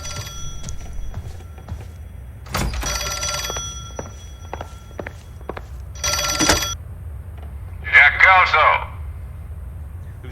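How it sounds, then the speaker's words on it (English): An old-fashioned telephone in the video game L.A. Noire rings in three separate bursts of bright, rattling bell, with quiet background between rings. "let's answer the phone"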